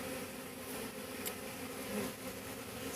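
A swarm of honeybees hums in a dense, continuous buzz, steady and fairly quiet at close range, with no voices over it.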